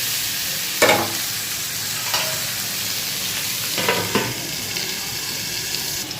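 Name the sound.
stirring frying potato and eggplant in pan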